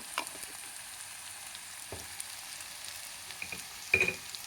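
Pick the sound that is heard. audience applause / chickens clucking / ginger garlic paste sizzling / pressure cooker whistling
ginger garlic paste sizzling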